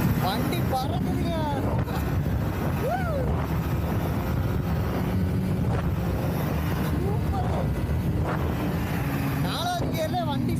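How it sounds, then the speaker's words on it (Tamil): A new Yamaha MT15 motorcycle on a test ride in fourth gear gives a continuous engine drone mixed with heavy wind rush, while a rider talks over it throughout. "நாலாவது கியரில் வண்டி சும்மா பயங்கரமாக அடிக்குது"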